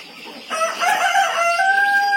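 A rooster crows loudly nearby on a chicken farm, a drawn-out rising call, with faint clucking around it and no talk.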